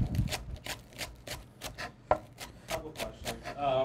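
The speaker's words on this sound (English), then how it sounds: "now we're going to chop some of the green onions to go on there." Green onions are chopped with a knife on a wooden board for German potato salad, giving a quick, even run of close, crisp taps and scrapes with no talking.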